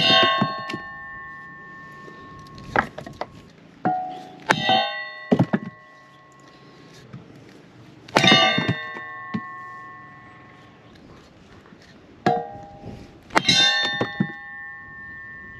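A Kindling Cracker splitting wood into kindling rings out with sharp metallic clangs and ringing strikes, several separated hits with decaying tones and woody knocks between, close and loud.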